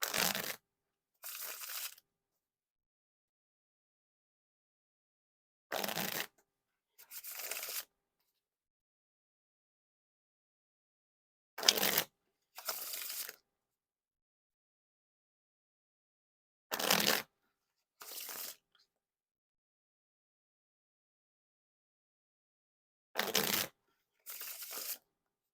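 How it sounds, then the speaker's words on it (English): Bloc Marble Edition playing cards being shuffled in short crisp bursts, about two quick riffles every six seconds separated by silence, close and fairly quiet. "this is where the cards get all mixed up now"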